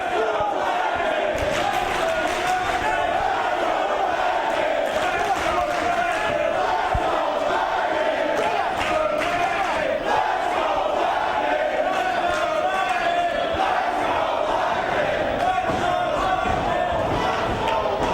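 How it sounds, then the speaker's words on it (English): A loud wrestling arena crowd cheers and roars continuously deep into a match, a dense wall of sustained noise with shouts rising throughout and no pauses. "the fans have just as much endurance as these wrestlers right now to be cheering this loud, this far into the match"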